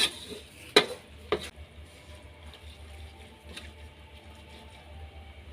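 Mussels with holy basil are stir-fried in a pan, with a few sharp metallic scrapes of a spatula near the start followed by a low steady sizzle, close and without talk.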